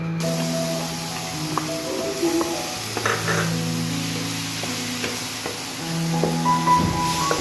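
Onion paste and ginger-garlic paste fry in hot oil for a boal fish kalia, giving a steady, close sizzling hiss that runs unbroken throughout with faint clicks of cooking, and no voices.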